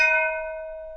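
A timpani mallet on a brake drum: a metallic bell-like tone rings steadily, already sounding at the start and slowly fading, with bright overtones and nothing else present.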